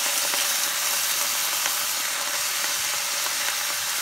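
Bok choy and collard greens sizzle steadily in a pan of hot olive and coconut oil, giving a close, even frying hiss that holds without a break.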